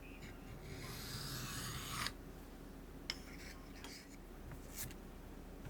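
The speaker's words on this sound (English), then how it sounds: "I had been sharpening for hours at this point." A knife is sharpened by hand on a whetstone. A faint, airy scraping stroke lasts nearly two seconds, followed by a few quieter, scattered scrapes in a calm room.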